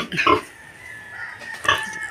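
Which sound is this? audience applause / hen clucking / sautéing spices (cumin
hen clucking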